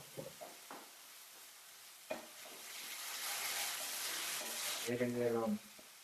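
A spoon stirs Kerala chicken curry in a pan, giving a soft scraping sizzle with a few light knocks and a brief voice near the end.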